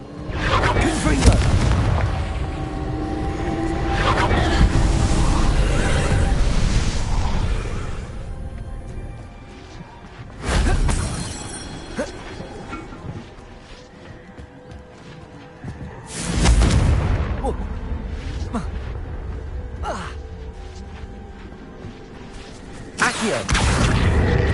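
Fire spell explosions from the video game Hogwarts Legacy go off as three big booming blasts, one at the start and two more about ten and sixteen seconds in, each swelling and then fading into a quieter stretch of game ambience.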